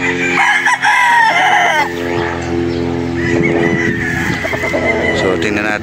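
A bulik gamefowl rooster crows loudly and close by on a farm in Padre Garcia, Batangas, several drawn-out crows and clucks overlapping with other birds and someone talking.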